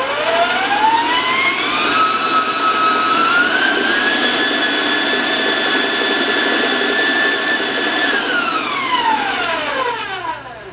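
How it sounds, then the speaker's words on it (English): Electric stand mixer running at high speed while beating rum butter cake batter, a loud steady motor whine that rises in pitch as the speed climbs, holds high for several seconds, then winds back down. "I'm going to raise my mixer up with the speed"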